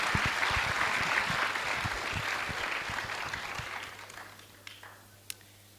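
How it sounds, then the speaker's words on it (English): An audience claps at a school's 60th anniversary celebration, dense applause that gradually thins and fades out, ending with a couple of isolated claps. "we have another round of applause for our alum from the 70s"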